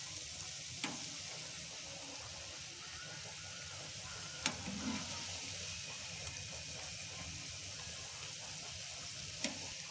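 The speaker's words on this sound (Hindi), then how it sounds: "तो इसे हमें गोल्डन ब्राउन होने तक फ्राई करना है।" Mixed vegetable pakoras of spinach, potato, onion and cauliflower deep frying in hot oil, a steady soft sizzle throughout with a few faint stirring clinks, no talk.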